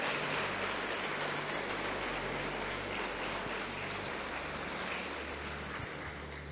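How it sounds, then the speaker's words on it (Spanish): Church congregation applauding, a dense, steady wash of clapping that carries unbroken for several seconds at moderate volume, with a low hum running underneath and no speech. "Dele un aplauso al Señor por su vida."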